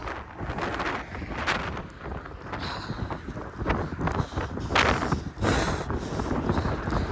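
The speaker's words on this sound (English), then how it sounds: "you guys may not be able to hear me over the wind, so there it goes again" Strong winter wind gusting along a street, roaring and buffeting the microphone continuously with swelling surges, loud and close, with no clear speech.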